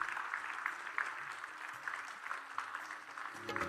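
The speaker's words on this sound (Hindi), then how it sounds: "जोरदार तालियों से परम पूज्य गुरुदेव का स्वागत करते हैं।" Seminar audience applauding to welcome a guru, a steady wash of clapping from many hands that carries on throughout at moderate volume.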